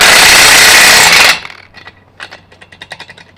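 A power tool whirs loudly for just over a second while working a socket off a Hummer wheel, then cuts out, leaving faint ticking and clicking as it spins down.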